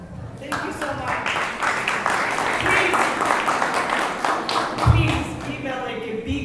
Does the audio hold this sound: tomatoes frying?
no